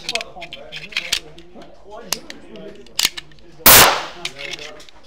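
A Colt 45 pistol fires one sharp, loud shot at a gun shop event, a single burst standing out above scattered clicks, handling noises and someone speaking quietly in French.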